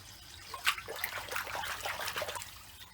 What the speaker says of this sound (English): It's filling up slowly, and mains cold tap water is about 17 degrees centigrade